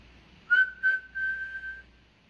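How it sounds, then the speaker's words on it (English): A person whistles with the mouth: two short chirps followed by a longer sustained clear tone, close and fairly loud, with no other sound around it. "Whistle is making a noise from your mouth."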